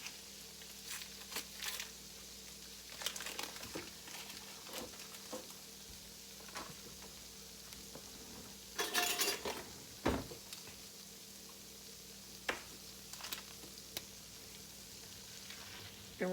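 Half a stick of salted butter melts in a pan with a faint, steady sizzle, broken by occasional clicks and clatters of kitchen handling and one louder burst of bubbling.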